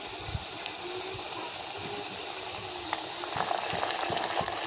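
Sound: tempering frying with asafoetida, green chillies and curry leaves

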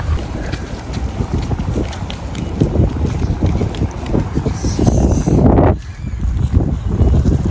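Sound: strong wind at the beach

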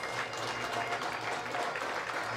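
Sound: crowd applauding as the piper leads the teams

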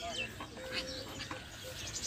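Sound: exotic birds calling on a village farm

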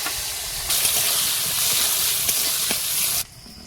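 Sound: chopped onion frying in oil

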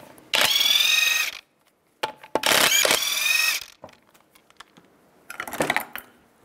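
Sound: ratchet with 19 mm socket removing lug nuts

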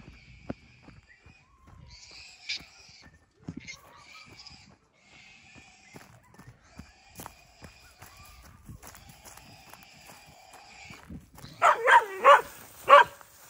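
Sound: pig hunting dog barking

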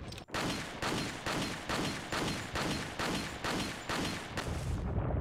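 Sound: gunfire in a video game

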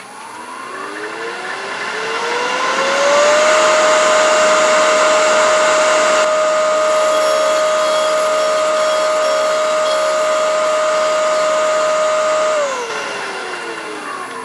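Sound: threading jig cutter cutting wood threads

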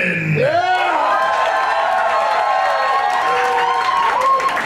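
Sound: audience applause and cheering

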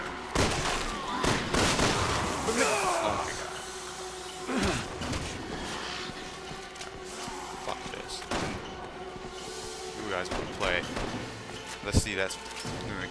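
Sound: gunfire in video game Resident Evil 6

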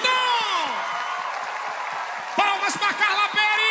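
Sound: audience applause for compadre Washington at live show

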